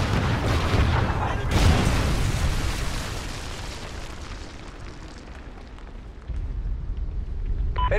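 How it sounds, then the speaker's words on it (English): Trinity rocket strikes in Call of Duty Ghosts multiplayer produce a heavy, rumbling explosion with a long roaring decay, followed by further booming blasts. "Friendly Trinity rocket inbound."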